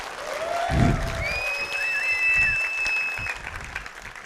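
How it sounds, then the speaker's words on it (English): Conference audience at Laracon India applauding the organizers, a steady wash of clapping from a large crowd with a few whistles and cheers rising over it. "can everybody just give a round of applause for Vishal and all the conference organizers?"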